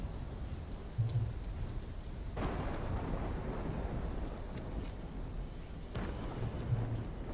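Steady rain and rolling thunder in a Call of Duty: Black Ops 3 storm scene, continuous downpour with deep rumbles swelling at intervals, moderately loud and with no voices.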